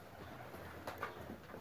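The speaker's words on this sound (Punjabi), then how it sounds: "ਇਹ ਵੀ ਟੈਡੀ ਕਬੂਤਰ ਹੈ, ਮੀਆਂ ਨਜ਼ੀਰ ਵਾਲਾ" A teddy pigeon from Mian Nazir's loft gives a faint, brief coo amid low background noise, with no voices.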